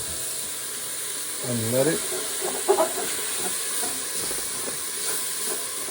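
Crab stock poured a little at a time into a hot pan for seafood chowder, a steady soft sizzle and hiss running under a cook's talking.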